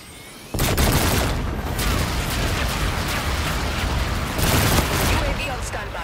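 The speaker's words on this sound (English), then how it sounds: "Bombardment incoming." A bombardment in the game Call of Duty: Infinite Warfare erupts suddenly into a loud, sustained roar of overlapping blasts and crackling explosions, with a brief lull before the barrage surges again.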